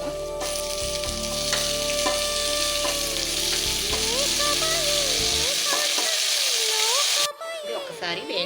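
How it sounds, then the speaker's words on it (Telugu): Chopped amaranth leaves fry in an open pan with onions for a Telugu stir-fry. The sizzle is loud and continuous, broken by a few stirring scrapes, and a voice speaks over the sizzle. "ఇది ఒకసారి వేయించుకుందాం."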